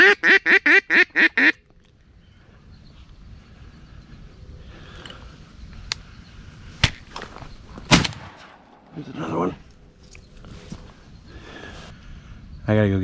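On a duck hunt, a quick run of six or seven loud, evenly spaced quacks opens the clip. Quieter outdoor stretches follow, broken by several sharp, loud bangs and some rustling.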